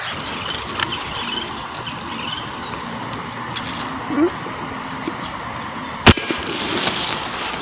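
A single sharp firecracker blast cracks once over a quiet outdoor waterside setting, set off while hunting giant snakehead fish. A steady background ambience runs beneath it.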